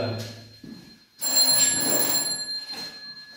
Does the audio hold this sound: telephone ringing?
yes